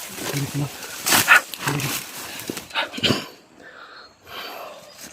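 A dog barks a few times at a distance, mixed with people talking and shouting outdoors.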